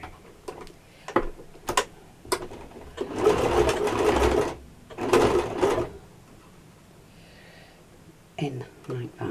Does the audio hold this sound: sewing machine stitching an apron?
yes